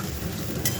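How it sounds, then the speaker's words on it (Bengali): Onions fry in a pot of hot oil tempered with bay leaf, cardamom, cloves and cinnamon, giving a soft, steady sizzle with brief stirring scrapes, close and fairly quiet, with no talking. "তেজপাতা ফোড়ন দিয়ে পেঁয়াজটা বসিয়ে দিয়েছি"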